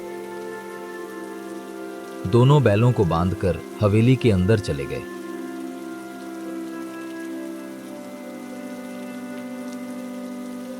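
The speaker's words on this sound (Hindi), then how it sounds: "बारिश रुकने का नाम नहीं ले" Steady heavy rain pours throughout, with someone speaking briefly over it for a few seconds before the downpour continues on its own.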